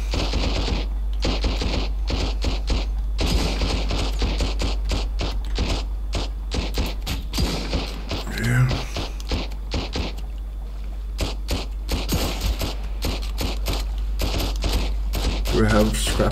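Rapid bursts of gunfire from the survival video game Sunkenland crack repeatedly and loudly over a steady low hum, with a voice talking in between.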